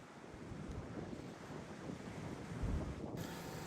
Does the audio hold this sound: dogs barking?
no